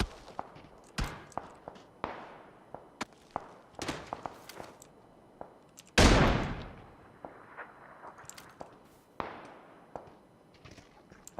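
Gunfire in the video game PUBG: a run of sharp, separate cracks and bangs, some distant and one much louder nearby blast, spread irregularly over a quiet background.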